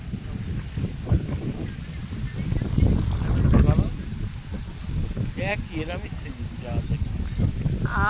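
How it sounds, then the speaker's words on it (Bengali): Strong wind blowing outdoors near Diamond Harbour, buffeting the microphone with rumbling gusts that swell and fade, while people talk throughout. "কি হাওয়া"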